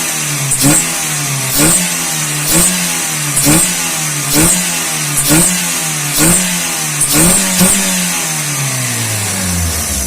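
A Mitsubishi L300 van's engine is revved hard again and again in a steady rhythm, each surge rising and dropping back, loud and close.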